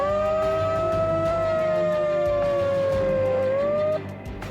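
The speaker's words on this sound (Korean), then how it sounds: "발파를 알리는 사이렌 소리에 이어" A loud, steady wailing siren warning of blasting at a tunnel construction site, holding one sustained tone that slides slightly before cutting off near the end, heard alone without voices.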